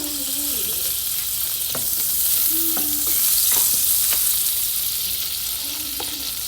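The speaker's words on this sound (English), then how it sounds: "And I'm going to add some butter to my oil." Butter sizzling in hot oil in a pot, a steady close frying hiss throughout with a few faint clinks and brief tones from the kitchen.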